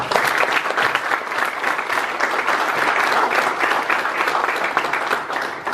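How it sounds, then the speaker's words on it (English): An audience applauds at a manufacturers alliance legislative listening session, with loud, steady clapping for about six seconds without a break. "If we can get a round of applause, I really appreciate it."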